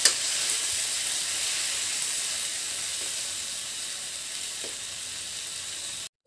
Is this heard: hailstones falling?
no